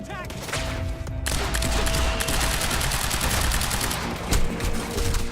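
Sustained video-game gunfire in Quantum Break, dense overlapping bursts of automatic shots that run continuously and loud, with a faint voice briefly underneath.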